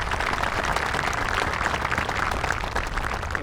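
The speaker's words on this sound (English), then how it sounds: "Demetra and the members of Mepham Capella another round of applause." A high school graduation crowd applauds a choral group after their performance, a dense, busy field of clapping that stays steady and fairly loud across the whole stretch.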